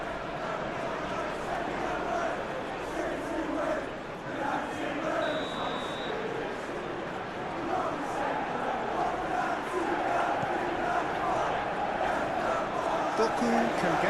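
Stadium crowd noise in a football simulation video game of a Premier League match, Manchester City against Sunderland, a steady broad roar that runs throughout under continuous match commentary.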